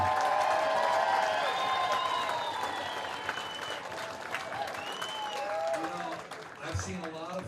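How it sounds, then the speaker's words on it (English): A large crowd at a radio station's evening event applauds loudly and continuously, the clapping mixed with whistles and scattered cheers, with voices rising from the room toward the end. "Let's give a big round of applause for Randy Raley"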